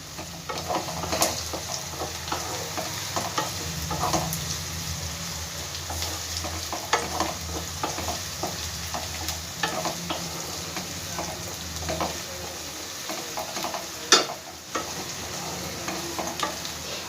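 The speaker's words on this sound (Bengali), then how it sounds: "পেঁয়াজটা আর্ধেক ভেজে নেবো আগে" Onion frying in a pan for egg keema curry gives a continuous hissing sizzle with frequent clicks and scrapes of stirring, one sharper knock near the end, and no voices.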